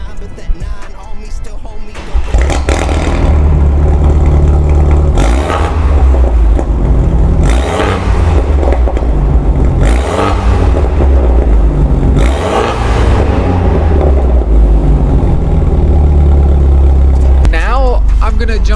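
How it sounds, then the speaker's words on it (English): A BMW F-chassis car with a Valvetronic exhaust cold-starts in an echoing parking garage: a loud crank and catch, then a deep, steady idle with periodic swells in engine note, reverberating off the concrete. "here's a cold start"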